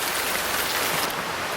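Steady rain pours down outdoors in a forest setting, a dense, even hiss of drops falling continuously with no voices over it.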